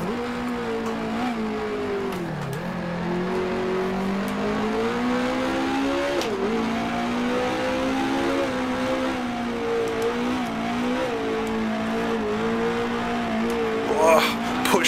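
Racing engine of a 1966 Grand Prix car in the Grand Prix Legends sim, droning steadily through a lap with pitch dipping and climbing on downshifts and acceleration, a faint tyre squeal near the end.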